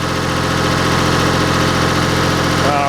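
A diesel engine runs at maximum RPM with a loud, dense, constant drone and steady vibration, close and unbroken for the whole stretch.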